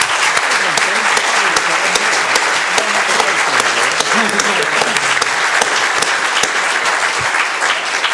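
Loud, sustained audience applause fills the whole stretch at the close of a university debate on preventing extremism, a dense continuous wash of many hands clapping with a few voices mixed in.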